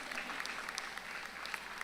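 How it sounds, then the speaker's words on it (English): A school audience at a national youth rally applauds, a steady dense patter of many hands clapping throughout, moderately loud and without voices. "Let us give our schools a round of applause for excellent performance."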